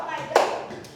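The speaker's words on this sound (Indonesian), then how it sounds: "tepuk tangan untuk kita semua" A group of children and a teacher clap in a school classroom, one short sharp burst of hands that fades quickly, with voices around it.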